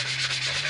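Sandpaper rubbing steadily over the wooden parts of a Brodak Cardinal model airplane, a continuous close scratchy hiss with a low steady hum underneath.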